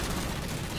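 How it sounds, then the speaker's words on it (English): Dense, continuous rapid gunfire from a fuel rod cannon in the Halo 4 video game roars loudly and steadily throughout, with no gaps or talking. "I was trying to remember the gun that was shooting at. It's a fuel rod cannon."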